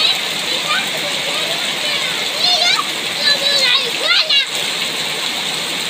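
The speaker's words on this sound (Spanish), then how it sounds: "para que vean la gran lluvia que se está cayendo" Heavy rain pours down in the aftermath of a hurricane, a continuous hissing wash of falling water with splashing, while voices talk and someone speaks over it.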